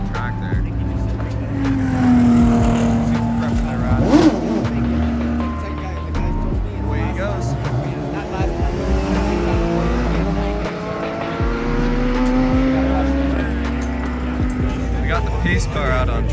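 Race cars circulate on a track during the 25 Hours of Thunder Hill endurance race as the pace car comes out, with steady engine drone and several cars passing at moderate distance while a voice talks over it throughout.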